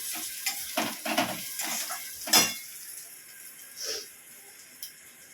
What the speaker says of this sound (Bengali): মাংসের পেঁয়াজটা ভেজে নিচ্ছি